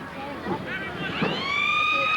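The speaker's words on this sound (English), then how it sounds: "There's the siren." A long, steady full-time siren wails across a noisy stadium crowd at the 1983 Manly v Cronulla rugby league cup final, rising in and holding its tone while a commentator talks over it.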